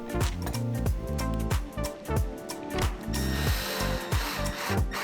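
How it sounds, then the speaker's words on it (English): A power driver sets 1 1/4 inch wood screws into a wooden shuttle, giving loud, close, ratcheting whirs in several short bursts with brief pauses, without speech. "This part gets secured with 1 1/4 inch wood screws, and make sure it's nice and tight to the shuttle."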